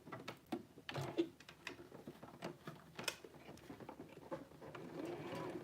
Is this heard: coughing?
no